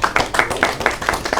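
A small English class claps for the groups in an even, rhythmic patter of close hand claps, about five or six beats per second, with no talking over it.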